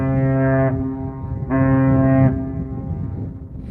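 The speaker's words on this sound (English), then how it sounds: "Oh, it's blowing its horn at me." A ship on the St. Clair River sounds its deep horn in two long blasts, the second following a short pause, loud and carrying over the water.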